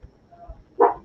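A dog gives one short, close bark after a quiet moment with faint low background rumble.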